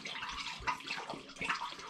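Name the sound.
spring water poured into a demijohn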